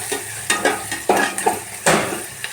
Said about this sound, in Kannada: ಕಲರ್ ಚೇಂಜ್ ಆಗೋವರೆಗೂ ಫ್ರೈ ಮಾಡೋಣ